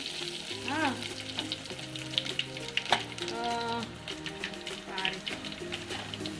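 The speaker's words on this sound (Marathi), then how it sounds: "मी जिरं टाकते, मोहरी टाकते, कढीपत्ता, लसूण" Cumin, mustard seeds, curry leaves and garlic sizzle and crackle in hot oil for a Malvani dish, a soft continuous fry with small pops and taps, while someone talks over it and background music plays.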